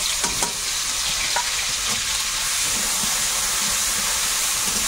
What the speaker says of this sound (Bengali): তেলের মধ্যে প্রথমে একটু লবণ দিলাম। এই মশলাটা এবারে দেবো, ছিটকাবে কম।